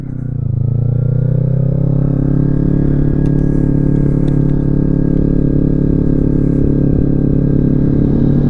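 A 701 motorcycle draws alongside to overtake a rider on a Z300, its loud rising engine drone building over the rider's own steady close engine roar and wind noise, with no voices.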